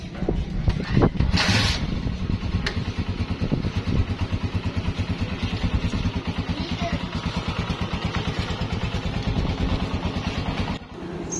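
A Honda CG 125 motorcycle engine idles steadily after repair, a close, loud, rapid single-cylinder putter with a brief blip of revving early on and a fast even rhythm throughout.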